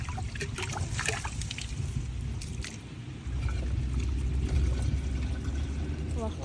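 Spring water trickling out from the middle of a stone at Almaly spring, a steady outdoor pouring and dribbling wash that grows slightly louder partway through, with faint background sounds and no speech.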